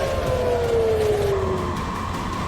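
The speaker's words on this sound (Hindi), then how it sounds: "बैलिस्टिक मिसाइलों के खतरे को देख इजराइल में कई जगहों पर सायरन की आवाजें सुनाई देने लगी।" Air raid siren sounding across Israel during a ballistic missile threat, a loud sustained wail gliding slowly downward in pitch over a constant noisy background.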